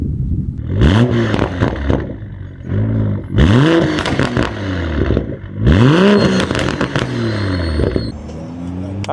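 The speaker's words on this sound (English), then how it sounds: "Now let's go ahead and hear our first cold start." A Toyota MK5 Supra with a newly installed downpipe makes a cold start outdoors: loud, harsh engine bursts with rising revs in several surges separated by short dips, close and raw-sounding.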